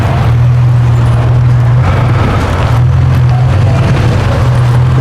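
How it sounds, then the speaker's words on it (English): A truck on a ranch road rumbles loudly and close, a steady deep engine drone with a humming tone that dips and returns, filling the whole stretch. "I'm going to wait till this truck stops this"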